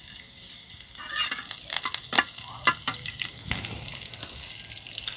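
Semolina batter poured into hot oil in a frying pan seasoned with black mustard seeds and curry leaves, giving a steady close sizzle with sharp crackles and stirring scrapes, no talking.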